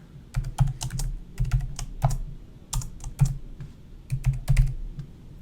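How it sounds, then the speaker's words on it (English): Steady typing of a username and password on a computer keyboard: clusters of crisp key clicks with brief pauses, close and fairly loud, with no talking. "So I'll just click Sign In, enter my username and password,"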